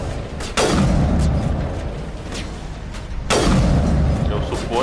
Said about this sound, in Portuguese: vou ficar dando tiro de sniper de longe aqui